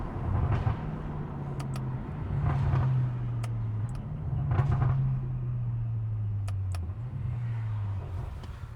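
A BMW M5 pulls hard on the road, its engine intake roaring in a loud, continuous drone that climbs in pitch across several gear pulls, with brief sharp clicks between shifts.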